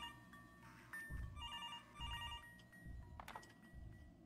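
A telephone rings inside the video game Fancyland, a repeating electronic ring heard at moderate volume over a low, busy game background with no speech.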